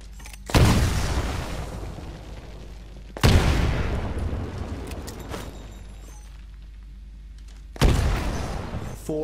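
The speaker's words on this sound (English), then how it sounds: "Throw a grenade into each of the windows." Three heavy grenade blasts from a Titanfall pilot-training course, each a sharp, loud boom followed by a rumbling decay. They come spaced a few seconds apart, with no talking.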